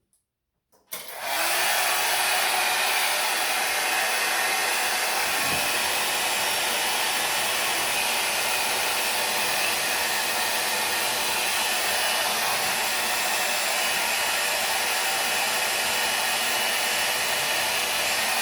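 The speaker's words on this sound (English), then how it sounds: "And then I have a hair dryer and a rat tail comb." A hair dryer, used with a rat tail comb to style a lace front wig, switches on after a moment and blows continuously with a loud, steady whooshing whine, close by and unbroken to the end.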